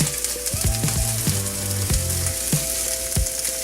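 Sausage sizzles steadily in a skillet, a loud close crackle with a few soft scraping knocks over it and no talking.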